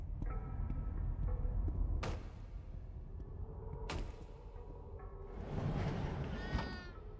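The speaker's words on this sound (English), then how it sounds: "Oh, the cat's name's Newt." A black cat in the horror video game The Baby In Yellow meows a few times amid a low rumbling game ambience with occasional sharp clicks, the cries rising clearer near the end.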